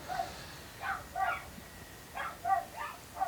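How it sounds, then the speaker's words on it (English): Dogs bark indoors in short repeated bursts, muffled and fairly faint, as if heard from behind walls. "My pups are actually barking inside"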